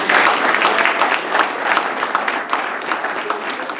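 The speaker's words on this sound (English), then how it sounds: "Give them a round of applause." At a lively party at the Hard Rock, a crowd claps loudly for the Governor-elect and Lieutenant Governor, a full, sustained round of applause that stays strong throughout.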